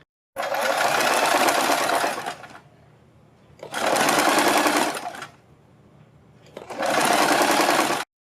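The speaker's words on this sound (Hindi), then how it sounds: "तो पहले हम इसको यहाँ से सिलना शुरू करेंगे, एक साइड से सिल लेंगे" A sewing machine stitches kurti sleeves in three loud, steady bursts of whirring, each about two seconds long, separated by short pauses of quiet, with no talking.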